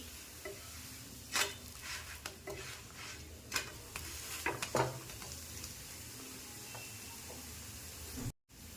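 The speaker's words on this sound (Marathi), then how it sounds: "याची दुसरी बाजू पण आपल्याला चांगली खरपूस अशी सोनेरी रंगावर भाजून घ्यायची आहे." Bottle gourd thalipeeth roasting to a crisp golden finish on a hot pan, a soft steady sizzle with occasional scrapes and taps of a spatula, quiet and close, ending abruptly.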